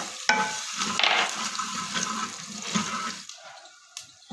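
Mustard seeds and spices stirred in a hot pan for tomato achari chutney, a steady close sizzle with scraping and rustling of the spoon, no voices.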